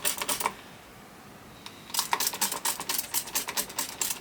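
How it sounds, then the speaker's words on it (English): Several quick, crisp bursts of spraying hiss in a rapid series, with a short quiet gap before a denser run of spritzes. "I'll grab this water and I just spray it"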